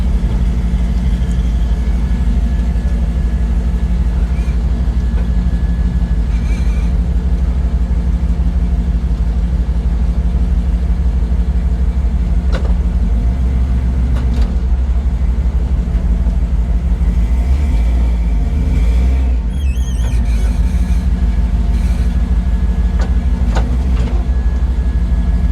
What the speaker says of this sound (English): Just get a couple accelerations out of it before we leave the driveway.